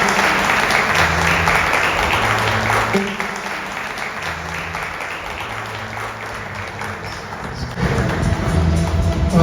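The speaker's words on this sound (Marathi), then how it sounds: "ते येत असताना प्रभूच्या नावामध्ये आपण टाळ्या वाजवूया" Audience applause welcomes guests onto the stage at a prophetic deliverance church meeting in Kolhapur. Loud, sustained clapping from a large crowd eases a little midway and then swells again, with a faint voice now and then underneath.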